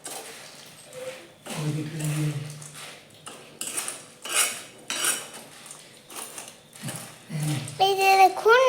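A spoon scrapes and clinks against a metal pot as food is stirred during village cooking, in uneven bursts of close metallic rattling, with a voice speaking in between.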